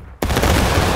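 Massed musket volley fired by a line of infantry in the Civil War game War of Rights, a sudden loud roaring crack that bursts in after a brief quiet and rolls on densely.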